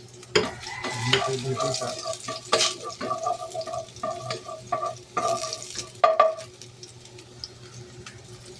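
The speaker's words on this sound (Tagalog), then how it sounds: "Igisa na natin ang bawang." Garlic sautés in a pan with a light sizzle under repeated scraping and clanking stirs of a utensil, close by, with a brief voice speaking near the start.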